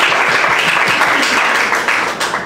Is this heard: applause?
yes